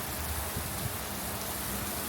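Heavy rain falling during a storm in Arnold, Missouri, a dense steady hiss of downpour with no breaks, fairly faint and even across the moment.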